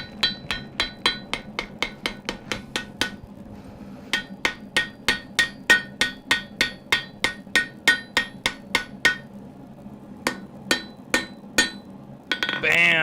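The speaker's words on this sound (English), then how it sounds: "We got that little bitty dip out by hammering it just enough in." A hammer strikes a knife blade again and again, knocking a small dip flat. The sharp, close, ringing blows fall in a steady rhythm, around forty in all, broken by brief pauses.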